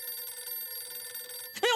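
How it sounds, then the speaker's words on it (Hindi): A telephone rings with a steady electronic trill over faint background hum, cut off by a brief louder burst at the end. "ये उनका ही फोन है। फोन आ गया।"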